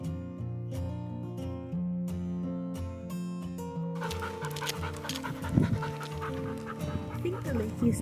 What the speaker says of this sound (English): And you can hear Apollo panting, who's always overexcited.